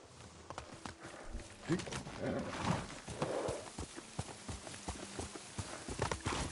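A horse's hooves clip-clop at a quickening pace in a samurai video game, with scattered hoof strikes and a brief whinny-like sound under soft background ambience.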